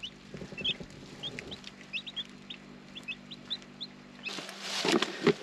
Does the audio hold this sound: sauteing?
no